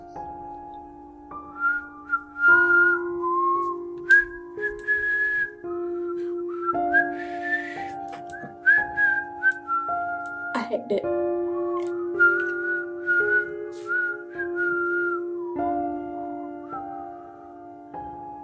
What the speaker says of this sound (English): We have a poor whistler. Whoever it is, he's not very good at whistling.